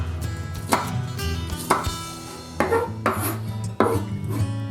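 A knife chopping shallots on a cutting board for a French bistro tartiflette, with about five distinct sharp chops spaced unevenly over a low kitchen background hum, no voices.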